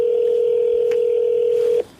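A single steady telephone tone sounds during a phone call, holding loud and even for nearly two seconds before cutting off abruptly.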